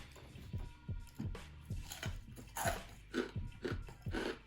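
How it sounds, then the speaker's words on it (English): Crisp, crackly crunches from biting into a fried Nashville hot chicken tender, KFC style, close to the mic, with a run of sharp bursts and chewing between them and no talk. "that crunch is on point"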